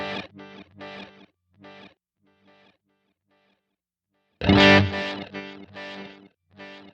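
Distorted electric guitar plays short chords and notes that repeat and trail off in echoing delays, followed by a louder strummed section with layered repeats.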